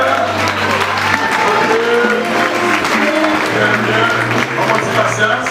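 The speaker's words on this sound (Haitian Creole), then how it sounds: "Un applaudissement, s'il vous plaît." An audience claps steadily at a ceremony, a dense wash of applause with a low hum underneath and people talking over it.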